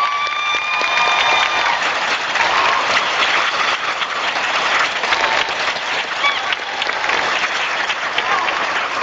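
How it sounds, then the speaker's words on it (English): Parents at a high school graduation ceremony give themselves a sustained round of applause, a dense, steady wash of clapping filling the hall for the whole stretch, with faint crowd murmur beneath. "parents, please rise and give yourself a round of applause."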